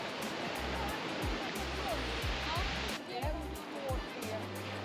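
Sea waves wash steadily along the seashore in Marseille, a continuous broad surf hiss with low thumping gusts of wind on the microphone, close and fairly loud throughout.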